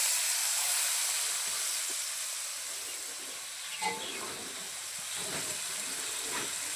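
Vegetables sizzling in a pan on a clay stove after a little water is added, a steady close hiss and steam with faint bubbling and a small clink.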